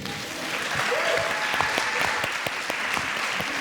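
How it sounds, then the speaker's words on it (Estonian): Audience applause at a forum theatre performance during a mental health fair, starting softly then settling into steady clapping with distinct sharp claps audible, at moderate loudness. "Teeme aplausi."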